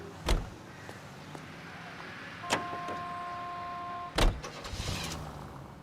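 Car from the L.A. Noire video game: three sharp door thumps spaced a couple of seconds apart, with a steady electric power-window whine running between the second and third, over a low engine-like background.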